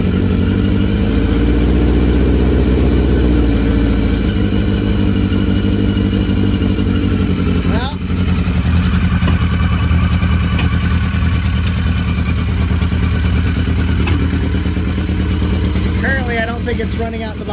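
A 1982 Yamaha Maxim XJ750 barn-find motorcycle engine runs steadily at idle with choke applied, a loud, continuous mechanical clatter and exhaust drone, with a brief shift partway through.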